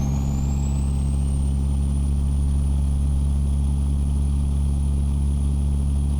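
King of the Hill default truck engine in American Truck Simulator, a loud steady low drone holding at constant revs with a faint rising whine above, heard alone without talk.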